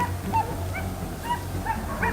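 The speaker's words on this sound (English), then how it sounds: "The sharp barking of the hunting dogs and the shouting of our teammates added to the tension." Hunting dogs during a wild boar hunt yelp and bark repeatedly at a distance over a constant low rumble of background noise, the calls thin and overlapping rather than loud.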